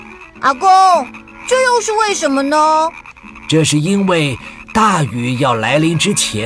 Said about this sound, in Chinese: 青蛙呱呱呱地叫了好大声哦。